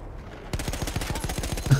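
Rapid gunfire from Battlefield 1, a steady run of sharp, closely spaced automatic shots that starts abruptly after a brief quiet and continues loud and unbroken.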